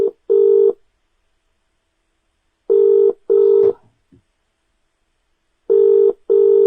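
Telephone keypad dialing tones while phoning parents, with loud, clean beeps in pairs: two near the start, two more after a pause, and a final two at the end, separated by silence.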